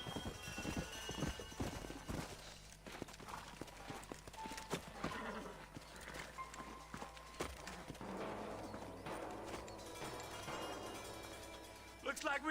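Horse hooves clip-clop at a walk in the Western video game Red Dead Redemption, a faint irregular clatter of several horses mixed with game sounds and low voices.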